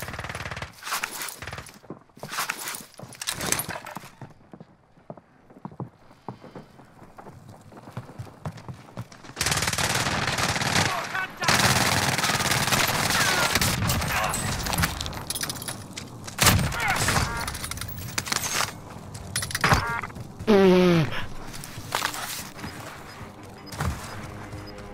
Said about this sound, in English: I didn't realize I was getting shot from there.